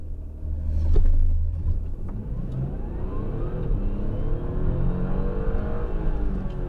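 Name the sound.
Audi A7 55 TFSI engine revving after releasing throttle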